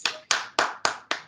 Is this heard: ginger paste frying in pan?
no